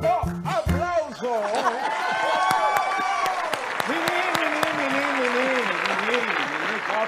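Audience applause at a Spanish-language variety show, clapping swelling after a host's call and running steadily beneath an excited announcer's voice and a musical tone.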